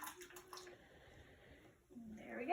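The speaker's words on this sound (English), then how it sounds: "we're going to go ahead and dump them into the ice water" Blanched asparagus spears dumped into a bowl of ice water for cream of asparagus soup, giving a brief splash and watery swirl, with a bright pour-like rush building near the end, close by in a quiet kitchen.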